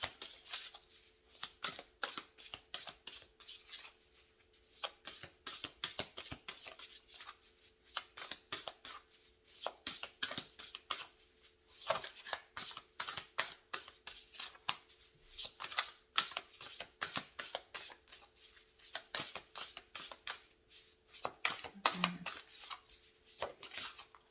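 Oracle cards are shuffled by hand in a long run of rapid, close riffling and slapping bursts with brief pauses between them, and no talk is heard.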